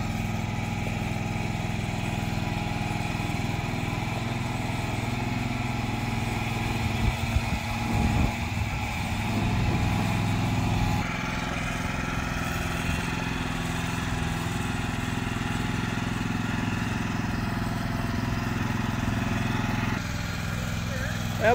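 A tractor engine drones continuously while leveling ground at an RV base camp. The mid-distance motor hum stays steady and fairly loud throughout, with faint clatter now and then.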